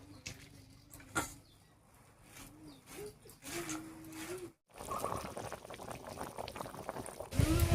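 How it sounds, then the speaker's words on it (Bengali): Broth for a tengra fish curry boils in a pot nearby, starting as a soft simmer and then breaking into a dense, steady bubbling hiss. "শাকটা কাটতে কাটতে ঝোলটা ফুটে গেছে,"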